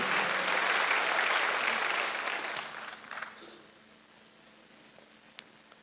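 A church congregation at a Sunday worship service bursts into loud clapping that holds for about two seconds, then fades away into the quiet hall.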